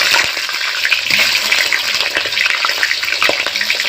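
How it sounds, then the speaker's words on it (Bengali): A rohu fish head fries in hot oil in a wok on a stove, giving a loud, dense, continuous crackling sizzle with scattered pops throughout and no voices. "এবার আমি মাছটা ভেজে নেব।"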